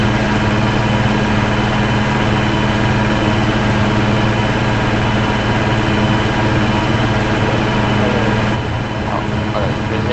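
Loud, steady rumble of a tractor engine idling up close in Farming Simulator 25, droning without pause and dipping slightly near the end.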